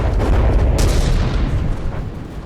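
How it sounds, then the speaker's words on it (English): Explosions and gunfire in the video game From the Depths: a heavy boom, then a sharp crack near the middle, rumbling into a dense, decaying roar, loud and close, with no talk. "And again, there are explosions happening."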